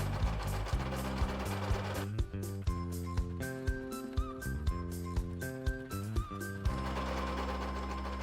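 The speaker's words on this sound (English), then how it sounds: "We're going to run each side through the sewing machine first, nice and slow, to sew our 1-inch side hems." A sewing machine stitches the one-inch side hems of boat curtains slowly, a close mechanical whirring with rhythmic clacking pulses that pause briefly and restart at a steadier pace.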